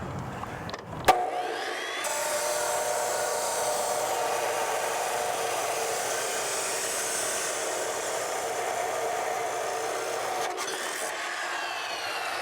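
A chop saw blade cuts through material: a sharp start, then a loud, sustained grinding whine for about eight seconds before the cut ends, heard alone without talk.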